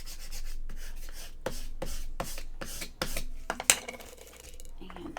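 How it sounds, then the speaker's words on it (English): Double stick glue tape on paper is burnished down by hand, a series of soft rhythmic rubbing strokes, close and quiet, with a small click near the end. "now let's burnish this down really good."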